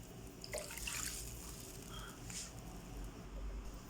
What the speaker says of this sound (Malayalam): ഒരു കപ്പിന് ഒന്നര കപ്പ് വെള്ളമാണ് ഞാനിവിടെ ഒഴിക്കുന്നത്